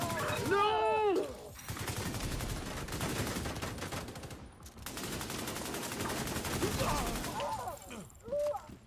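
Rapid automatic gunfire from a first-person shooter game crackles in sustained loud bursts nearly throughout, with a short gap in the middle and a brief vocal exclamation near the start.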